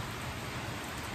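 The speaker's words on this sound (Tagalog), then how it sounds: "Ayan po, at umuulan na naman." Steady rain pours down outside a home, a continuous even hiss of drops on surfaces with no voices over it.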